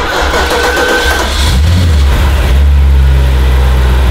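An Audi A8 4.2L V8 with a running fault cranks and fires up, then settles into a deep rumbling idle and swells as the throttle is blipped, loud and close with no voices.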